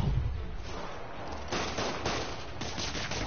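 Rapid gunfire rattles through a Spider-Man video game scene, a dense, continuous burst of shots with a few sharper cracks standing out, loud and close with no talking.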